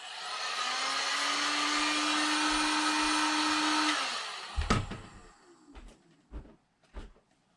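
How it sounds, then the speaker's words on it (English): A heat gun blows hot air onto an F-150 headlight, a steady loud whooshing hum for about four seconds before it shuts off, followed by a few sharp knocks and clicks of handling, with no talk. "We'll help it with the heat gun."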